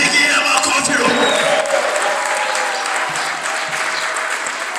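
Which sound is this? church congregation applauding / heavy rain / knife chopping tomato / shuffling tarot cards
church congregation applauding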